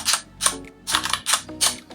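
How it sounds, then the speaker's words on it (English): Rapid clacking keystrokes on an F96 mechanical Bluetooth keyboard at an office desk, in close, crisp bursts with brief pauses between runs of typing. "the best part of this keyboard is I like the mechanical sound."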